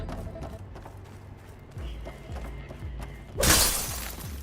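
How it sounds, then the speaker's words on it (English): Glass smashing in the video game Horizon Forbidden West, one loud bright crash bursting out over a low rumbling game ambience with muted thumping steps. "My heart told me to come in here and break this glass."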